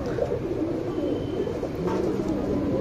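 Low, throaty cooing from a flying tournament pigeon, soft repeated coos close by over a murmuring background, with faint chirps and no clear speech.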